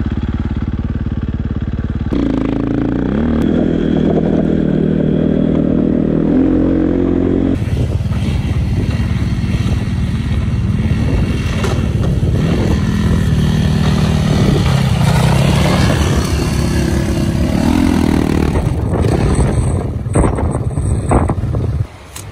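Timbersled snow bike engines idle and then rev up loudly nearby while riding through a town with thin snow in Flagstaff, Arizona, a rough, buzzing two-stroke roar that rises and falls throughout, with wind buffeting the microphone.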